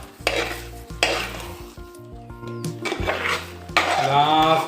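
Beetroot halwa cooking in a pan, stirred steadily with a metal spoon: bursts of sizzle and hiss alternate with scraping and clinking against the pan, close and fairly loud.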